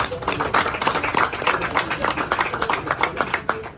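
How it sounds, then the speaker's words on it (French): An audience at a football event in Cameroon with Brazilian guests gives brisk, fairly close applause. The claps are distinct and rhythmic and last the whole stretch. "Est-ce qu'on peut applaudir ça?"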